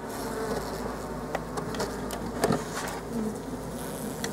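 Honey bees buzzing at an opened beehive being prepared for winter, a dense, steady close-up drone with individual bees flitting past now and then.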